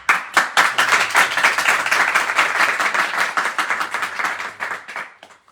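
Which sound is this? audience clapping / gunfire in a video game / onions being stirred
audience clapping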